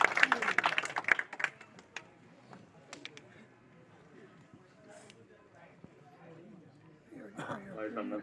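Audience at a village public dialogue meeting claps to welcome guests. A loud, dense burst of clapping opens and quickly thins to scattered claps, and people talk throughout.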